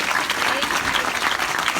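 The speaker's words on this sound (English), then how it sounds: "big round of applause for all the cast" An audience claps steadily for the cast, a dense wash of applause, loud and close, that holds evenly throughout.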